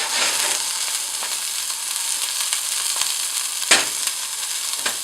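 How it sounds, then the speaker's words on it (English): Big pieces of beef searing in a hot pan for a braise give a steady, loud, crackling sizzle with occasional sharper pops, close up and uninterrupted by speech. "Big pieces of meat. Now listen to the sear."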